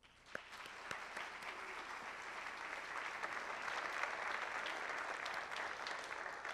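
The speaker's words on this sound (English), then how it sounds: "Please join me in a round of applause to show our appreciation to those individuals." Applause from a concert audience at an All County instrumental jazz ensemble event: clapping starts abruptly after a few early claps, then builds into a full, sustained round from many hands heard at a moderate distance.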